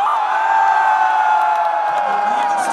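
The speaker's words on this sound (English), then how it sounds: "you guys will give a rapturous cheer such as this" A concert crowd at a show at Tilburg's Teatria erupts in a loud, sustained roar of whoops and cheers that swells and holds throughout.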